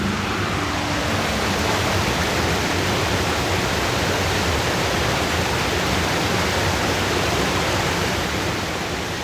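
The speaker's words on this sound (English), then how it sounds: "the water from the canal goes over the weir and down a wide stepped channel into the reservoir" Steady, loud rush of water pouring from the Llangollen Canal over a weir and down a stepped channel into Hurleston Reservoir, a continuous broadband roar with no pauses.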